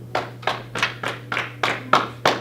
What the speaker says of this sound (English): Take a clap now?